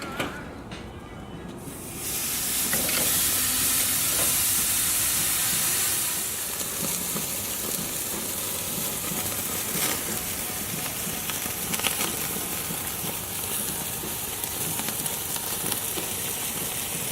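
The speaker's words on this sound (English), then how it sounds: "So I'm going to go ahead and sear off this Wagyu real quick." Wagyu tri tip sears over hot coals on a Weber kettle grill, giving a loud, steady sizzle and hiss that swells after a quieter start and holds strong throughout, with no talking.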